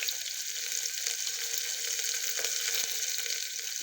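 Chopped onion sautéing in a pan for prawn rice: a steady, even hiss of frying that carries through the whole clip at moderate level with faint stirring knocks and no talk.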